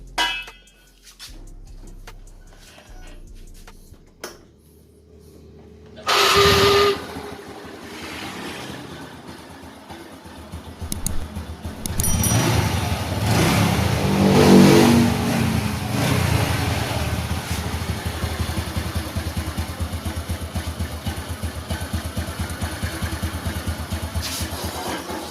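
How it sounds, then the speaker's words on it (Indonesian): A Honda Revo Absolute motorcycle with a carburetor idle fault is cranked and fires with a sharp burst, then settles into a steady, fairly loud idle that continues to the end after some faint clicking and handling noise. "Saya akan coba langsung hidupkan apakah setelan pada karburatornya sudah pas pada langsamnya atau tidak"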